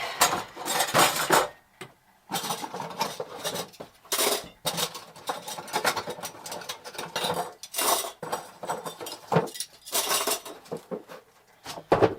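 Metal pot lids clattering and scraping as they are stacked and put away in a pantry, irregular clinks and rattles with short quiet pauses between handling, fairly close.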